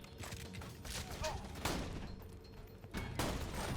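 Gunfire in the video game Borderlands 2, a rapid burst of several clattering shots in quick succession, mixed with game effects and a voice talking over it.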